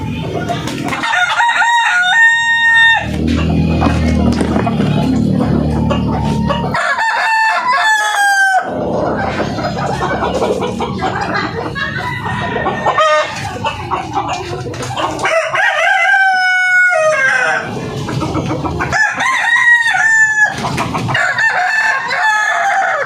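Darag native chickens crow repeatedly and loudly up close, the long drawn-out calls alternating with bursts of clucking and low cackling from the flock.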